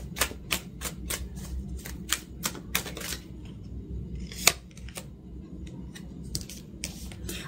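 Tarot cards are shuffled and drawn in a string of crisp, close snapping flicks, quick and rhythmic at first, then sparser, softer card sounds with one sharp snap.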